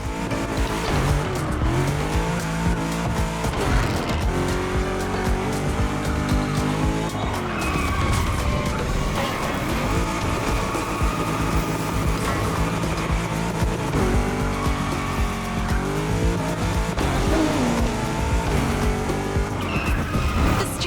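Modded Japanese cars race through Honolulu streets at night in the video game The Crew Motorfest, engines roaring continuously with repeated tire squeals and skids, loud and close under a dense music bed.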